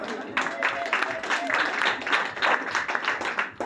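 Church congregation clapping in rhythmic bursts, with loud waves of applause rising and falling over a few seconds and voices mixed in.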